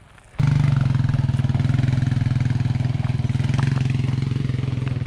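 A four-wheeler engine runs on a trail, starting abruptly and holding a steady, loud, pulsing idle-like drone with rhythmic clatter close by.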